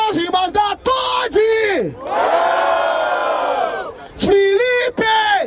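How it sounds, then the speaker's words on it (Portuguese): Audience at a Brazilian freestyle rap battle, the Batalha da Aldeia in Barueri, São Paulo, cheering and shouting for a rapper's rhymes. A loud, sustained crowd roar swells in the middle, and sharp yells and voices break in around it. "Plateia, barulho para as rimas da Todd!"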